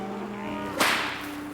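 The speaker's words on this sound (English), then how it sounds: "The name came from the crack of their long cow whips." A long cow whip, the kind used by Florida cattle herders, gives one sharp, loud crack midway through, set against a steady low hum.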